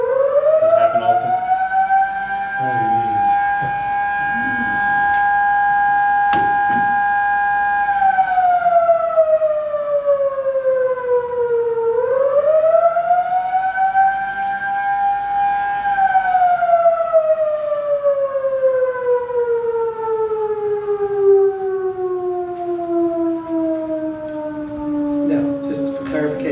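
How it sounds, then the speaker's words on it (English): An outdoor civil defense siren wailing during a town council meeting, a loud, long rising and falling tone that dominates, with brief speech faintly underneath at the start. "Just wait until the siren stops, because nobody can hear"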